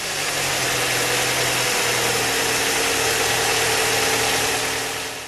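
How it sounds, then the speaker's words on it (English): A car engine, just fitted with new spark plugs, runs at a steady, even idle with a low throbbing hum and faint vibration, close and continuous throughout. "we can then start the engine."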